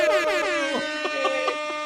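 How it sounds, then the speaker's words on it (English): A loud air horn blares continuously, with a rising pitch at the start and repeated stuttering blasts layered over a sustained tone. "Air horns right here."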